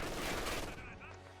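Gunfire from penal troops rattles through a Company of Heroes 2 match, a dense fusillade of shots with a voice talking over it throughout.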